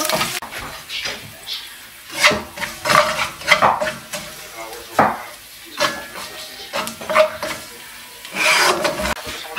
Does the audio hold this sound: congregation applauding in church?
no